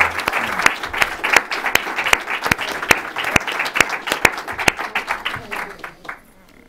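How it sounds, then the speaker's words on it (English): An audience applauds the speakers at a talk on Latin American politics, dense steady clapping from many hands filling the room, then cutting off abruptly near the end. "please join me in a round of applause to thank our speakers"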